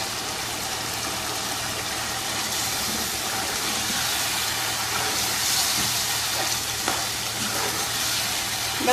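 Chicken frying in a pan with julienned ginger added, giving a steady, even sizzle throughout with a faint low hum beneath and no talking.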